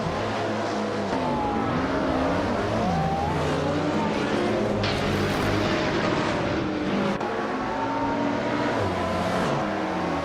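Race cars roar continuously through an AI car racing video game at Circuito Sagalices, engine notes rising and falling as cars shift and pass, loud and steady throughout with no talking.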